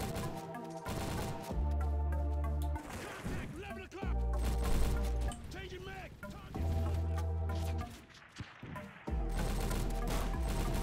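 Rapid gunfire from a weapon in the Roblox shooter Recoil comes in loud repeated bursts and volleys, with short gaps between them, layered over busy game audio.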